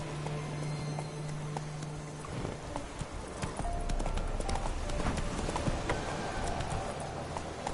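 In The Witcher 3, the horse Roach gallops with a steady, rapid clip-clop of hooves over a dense rumbling ambience, fairly close and continuous, with a brief tone early on.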